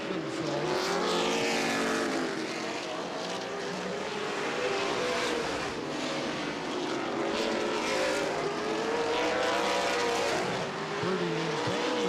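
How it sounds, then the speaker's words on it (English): CRA late model sportsman race cars at Anderson Speedway, engines roaring continuously and rising and falling as cars sweep past, a dense, fairly distant wall of motor noise with no voices. "Those two definitely the fastest two cars on the racetrack right now."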